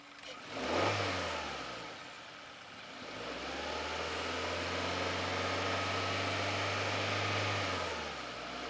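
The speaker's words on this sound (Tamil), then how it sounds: "ரவ் பண்ணலாம்." An affordable Indian 4x4 diesel car's engine is revved: a quick blip rises and settles back toward idle, then a longer, steady rev holds a raised drone for several seconds before easing down, close and clear with no talking.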